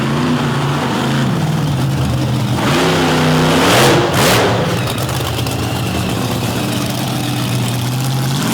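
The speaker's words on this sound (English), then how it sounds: "A lot of horsepower in this big engine." Big drag racing truck engine revving hard at an Overdrive kick-off event, a loud, deep roar that climbs and surges in the middle before settling back to a heavy rumble.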